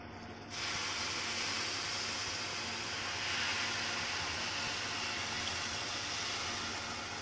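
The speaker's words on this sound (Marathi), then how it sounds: "यामध्ये आपण आता पाणी टाकूया" Water pours into a pressure cooker holding rice and mixed vegetables, a sudden start followed by a steady, dense hissing rush that stays constant throughout with no talking.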